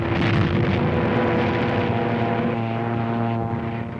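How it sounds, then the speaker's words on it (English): A Stuka dive bomber in flight over a wartime North African battlefield, a loud continuous propeller-engine drone with a steady tonal hum that fades slightly over a few seconds, heard alone. "There's a Nazi dive bomber letting one go."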